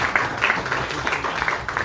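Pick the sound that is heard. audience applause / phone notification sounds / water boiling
audience applause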